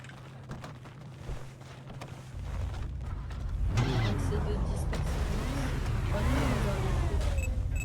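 A Kuruma Air car in a video game starts up after some quieter clicks and rustling, then settles into a loud, steady engine drone with rising and falling revs. Players talk over it.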